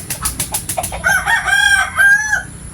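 A rooster crows with a long drawn-out call after a burst of rapid clucking from chickens, fairly loud and close, with no talking.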